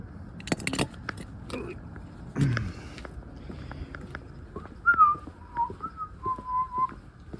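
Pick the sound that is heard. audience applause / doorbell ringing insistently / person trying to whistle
person trying to whistle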